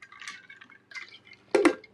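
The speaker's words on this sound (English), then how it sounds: "I'm going to get some water real quick here" Water poured into a glass indoors, a few soft trickling bursts with a louder splash near the end, close and alone.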